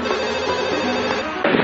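A telephone rings in a loud, steady electronic tone that runs without a break, close and clear, ending in a brief burst of brighter sound.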